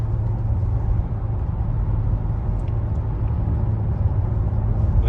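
A 2022 BMW M3 Competition xDrive with all-wheel drive accelerates lightly, giving a steady, low engine rumble and road noise inside the cabin that runs evenly throughout with no voices.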